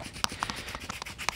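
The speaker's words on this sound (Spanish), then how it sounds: "simplemente hay que lijar esta parte que acabamos de cortar" A freshly cut end of a homemade crochet hook carved from a tree branch, rubbed with sandpaper wrapped around a small wooden stick: soft, faint scratchy strokes in an irregular rhythm, close by, with no voices.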